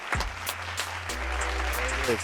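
Light applause from a small gathering celebrating a wedding, a soft patter of claps mixed with overlapping talk and a low background hum.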